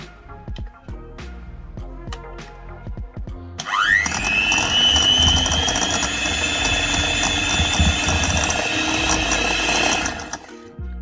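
Butter and sugar in a bowl are beaten with an electric whisk: a few light clinks, then the motor spins up into a loud, steady whine lasting about seven seconds before cutting off.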